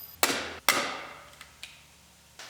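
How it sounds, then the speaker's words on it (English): Hand riveter setting rivets into metal reinforcement brackets on a Kia Sorento, two sharp loud snaps close together followed by a few fainter ticks and clicks. "We're just going to use our hand riveter on this one"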